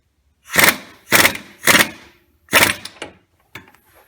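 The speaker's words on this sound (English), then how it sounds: "So right now we're going to tighten this sprocket nut up with the special socket." A special socket tightens the sprocket nut on a 1935-1939 Indian motorcycle, making four loud ratcheting bursts in an even rhythm up close, followed by a few fainter clicks.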